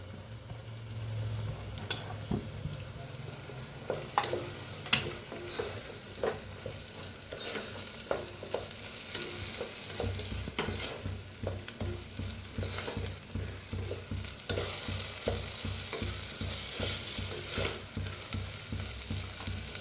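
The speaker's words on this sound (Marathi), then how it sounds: "जे आपला मसाला उरला होता ते ते बी मिक्स करून भाजून घेऊया" Onion, tomato and masala are roasted in a pan and stirred steadily, with repeated spoon scrapes and taps over a constant sizzle that grows fuller in the second half, close up and with no speech.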